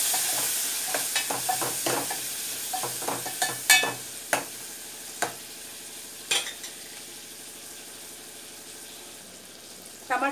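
Finely chopped tomato pieces fry in a pan for a drumstick tomato curry, with a constant soft sizzle. Repeated scraping and tapping stir strokes come through clearly, thinning out toward the end.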